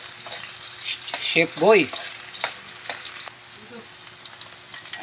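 Onions fry in a hot kawali pan for a pork isaw dish, a soft steady sizzle with occasional stirring clatter, heard under a man's brief spoken words near the start.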